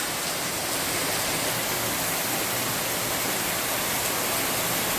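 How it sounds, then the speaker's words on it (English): Heavy tropical rain pours down steadily outdoors at about two to three inches an hour, a dense, constant hiss of falling water with no breaks and no voices. "Getting just a little bit of rain out here today"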